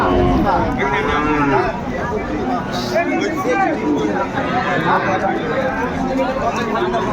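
Several cattle, Sahiwal and Friesian bulls, moo loudly and repeatedly amid a dense babble of crowd voices, a busy open-air livestock market in Bangladesh.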